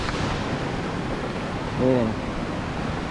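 Water at the head of the Poza El Perol waterfall in El Salvador roars in a steady, loud, unbroken rush, while someone briefly speaks over it.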